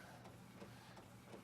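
An Epson EcoTank inkjet printer prints faintly in the background, giving a soft, steady mechanical whir with light rhythmic shuttling.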